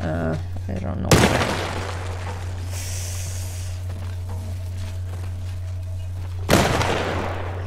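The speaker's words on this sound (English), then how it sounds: "Where is he shooting from?" Gunfire in The Last of Us Part I, two sharp, loud shots spaced several seconds apart, each with a ringing decay, over a constant low hum and faint in-game ambience.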